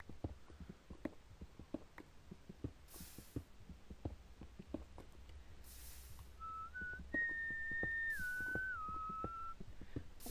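A person whistles a short wandering tune in the second half, clear over a steady rhythm of soft thuds and game sounds from a Minecraft session while mining for diamonds and redstone.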